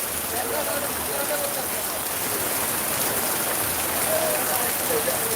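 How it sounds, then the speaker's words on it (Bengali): Heavy rain pours at night in Sylhet, a steady, dense hiss of drops drumming on surfaces that stays loud and unbroken throughout. "প্রচুর বৃষ্টি হচ্ছে, আপনারা দেখেন"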